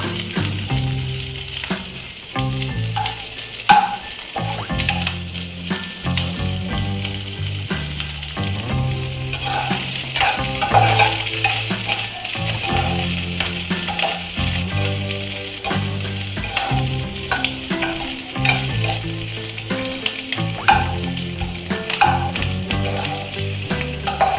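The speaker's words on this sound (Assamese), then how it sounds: "পিঁয়াজখিনি অলপমান ভজা যাওক" Onions fry in a pan with a steady, dense sizzle that runs the whole time, broken by frequent scraping and clinking from stirring, close and with no talking.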